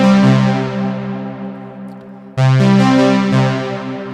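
Synthesizer lead patch for a song without equalizers, two long sustained bright buzzy notes with rich overtones, loud and close, the second entering sharply after the first fades.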